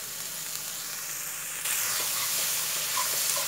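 Crab curry noodles being stir-fried with soy sauce and sugar, a steady bright sizzle that swells louder partway through, with small scrapes and pops from stirring in the pan.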